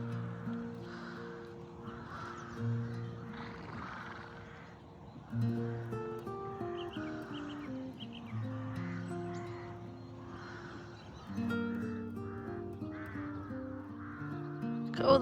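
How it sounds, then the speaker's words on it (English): Faint countryside birdsong with repeated crow-like caws on a quiet morning after rain near the stables, distant and soft over a low steady background of other tonal sound. "Look at all the lovely birds."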